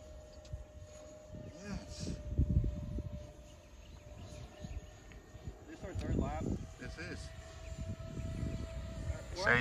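A radio-controlled model airplane on a student aero-design test flight gives a thin, steady motor whine that holds through the clip beneath excited voices and cheering nearby.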